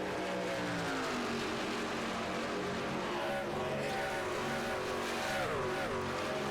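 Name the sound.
racing trucks side by side on track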